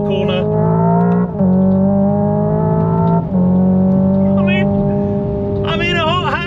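A 650 hp Hyundai Ioniq 5 N electric hot hatch in second gear accelerates hard out of a corner, its loud synthetic engine tone climbing steadily with two simulated upshifts, sustained and close throughout.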